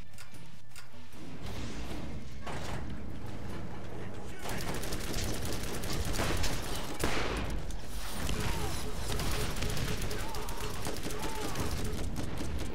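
Rapid bursts of revolver gunfire from the video game Borderlands crackle throughout, with game effects layered underneath and no clear pauses between shots.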